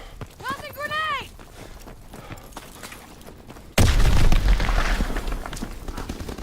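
A grenade blast in Call of Duty WWII multiplayer Domination hits loud and broad partway through, following game voice callouts, then rumbles on with battle noise.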